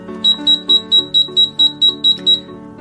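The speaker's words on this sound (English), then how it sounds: "we have multiple beeps which indicate the battery must now be changed" A digital safe lock keypad gives rapid low-battery warning beeps after a key press, about nine short, close, evenly spaced electronic chirps in quick succession with no voices.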